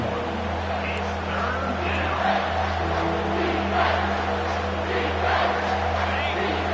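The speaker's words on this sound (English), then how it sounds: "Decibels rising as the crowd gets behind this defense on 3rd down" Football stadium crowd roaring and building on third down at an NCAA game, a dense sustained wall of cheering and noise across the whole stretch, with a play-by-play voice talking over it.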